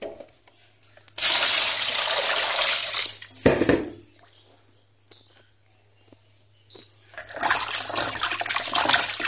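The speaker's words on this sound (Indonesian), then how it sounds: "Sebelum direndam kita cuci terlebih dahulu agar tulangnya bersih." Chicken bones being washed in water for a meatball soup broth, with bursts of running, splashing water and sloshing that stop and start, separated by quieter pauses.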